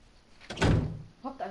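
A door opens in the video game Resident Evil HD with a heavy, close thudding rush of sound, followed by someone briefly speaking.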